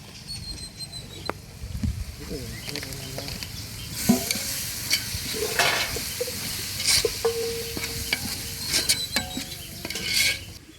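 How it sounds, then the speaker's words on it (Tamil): Chicken masala with onion, tomato and ginger-garlic paste is sautéed in a pan, giving a steady close sizzle broken by repeated scraping and stirring strokes, no talking. "சிக்கன் மசாலா சேர்த்து நல்லா வதக்கி விட்டாச்சு மசாலாவோட பச்சை வாசனை எல்லாம் போயிடுச்சு"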